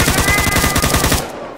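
Rapid, steady bursts of automatic gunfire from a modded gun in Minecraft version 1.10.2, loud and close, firing continuously before cutting off into a quieter tail.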